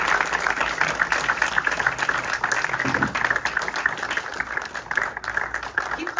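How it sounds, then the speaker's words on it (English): Applause rises from a festival screening audience as two guests return for a Q&A, a thick, sustained clatter of many hands with a brief low voice or murmur partway through. "So put your hands together."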